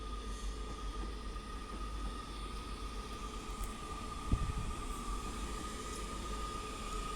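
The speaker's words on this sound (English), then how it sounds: "So now coming through is a pairing of 331s." A pair of coupled class 331 electric multiple units passes on the main line near Ardwick, Manchester, a steady broad rumble and rail roar held throughout with a brief sharp clank partway through, no talk.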